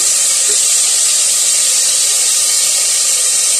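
Soy sauce poured into a hot pan of golden garlic while making chicken balls macaroni, giving a loud, steady, close hiss and sizzle that holds evenly throughout with no talking.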